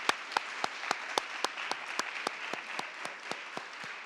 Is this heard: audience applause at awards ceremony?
yes